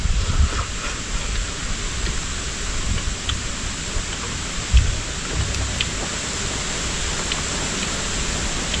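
Steady rain falling outdoors by a small river, a constant dense hiss with scattered drops and a faint low rumble, close and even throughout with no voices.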